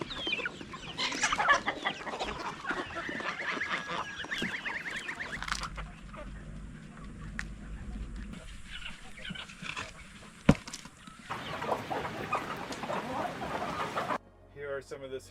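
Chickens cluck and squawk in a farm coop, several birds calling close by in busy bursts, with a sharp knock midway and a short stretch of quieter rustling.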